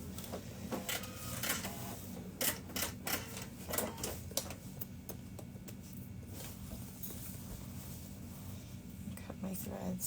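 A sewing machine back-stitches to finish a seam on a fabric duffle bag, giving a steady run of quick mechanical clicks and taps close by, with a low voice in the background.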